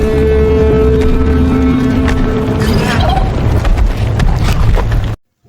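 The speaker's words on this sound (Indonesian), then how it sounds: "Karena sudah cukup lama, kapal pun akhirnya berangkat dan klakson berbunyi." A loud, low ship horn blares steadily over a rumbling engine and harbor noise, then cuts off abruptly near the end.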